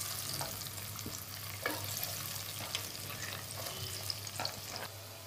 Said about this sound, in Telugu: ఇప్పుడు ఈ ఉల్లిగడ్డని ఈ నూనెలో వేస్తున్నానండి